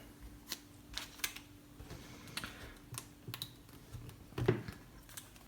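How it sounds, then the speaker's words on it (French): Fingers typing on the haptic touch keyboard of a Lenovo Yoga Book, a series of soft, irregular taps and clicks close by in a quiet room, with one louder knock near the end. "c'est un clavier tactile à retour haptique"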